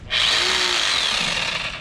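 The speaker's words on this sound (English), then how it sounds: "This is the hammer drill." A hammer drill runs in one loud, close burst of high whirring and grinding that starts abruptly and holds steady for under two seconds.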